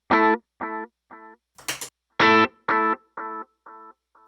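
Distorted electric guitar through an HX Stomp set to a quarter-note delay with the mix at about half, a few short notes followed by fading repeats, plus one brief noisy burst, played alone without talking.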